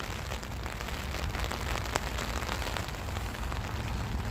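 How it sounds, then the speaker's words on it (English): Rain falling outside in Las Vegas near the old Tropicana, a steady, dense hiss of drops with no breaks, moderately loud and continuous throughout, with no talking. "You hear the rain?"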